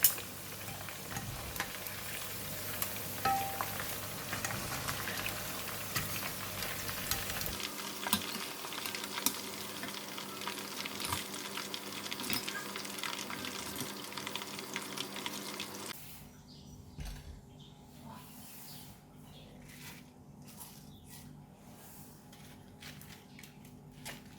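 Steady crackling sizzle of squid deep-frying in hot oil, continuous and close, with the texture thinning in the final stretch.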